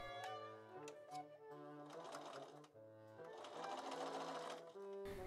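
Sewing machine running steadily while stitching a seam on an 1830s-style dress, a continuous whirring hum with short pauses as the fabric is pivoted, close and fairly loud over soft background music.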